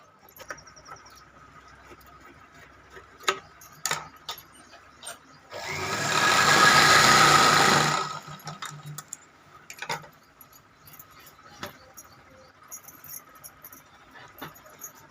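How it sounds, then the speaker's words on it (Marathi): Sewing machine stitching a quilt made from old sarees, running in one loud continuous burst of about two seconds amid quieter scattered clicks and handling noises. "दोन इंच सोडून मी इथं टीप मार मारत आहे याप्रमाणे आपल्याला पुगळी टीप मारून घ्यायची आहे"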